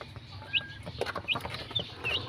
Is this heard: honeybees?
no